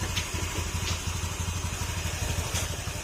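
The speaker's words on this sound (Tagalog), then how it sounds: "mapapansin nyo yung tunog ng makina" A Honda Beat FI scooter engine idles steadily up close with a low, even, rapid putter, running alone without any talking.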